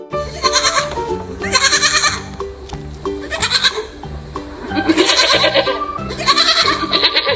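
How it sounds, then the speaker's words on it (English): A farm goat bleats repeatedly in loud, wavering calls spaced about a second apart, set over a steady, cheerful musical backing. "Goat."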